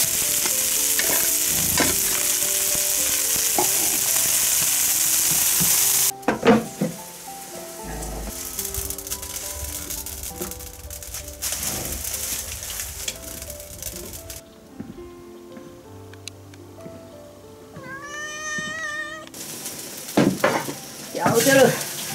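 Sausage and cured pork stir-fried in a wok, with loud continuous sizzling and scraping stirs at first, then quieter sizzle broken by clanks of the utensil against the pan.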